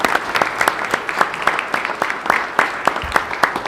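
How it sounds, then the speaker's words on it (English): Warm applause from a seated audience at a school district board of trustees meeting, steady dense clapping with sharper individual claps standing out, moderately loud and continuous throughout with no talking. "Let's give her a warm round of applause."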